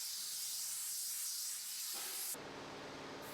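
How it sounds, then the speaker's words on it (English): Clean, dry compressed air blowing off a sanded Metton plastic repair surface, a steady loud hiss that holds, dips briefly, then continues as an even rush with no talk. "Blow off with clean, dry air."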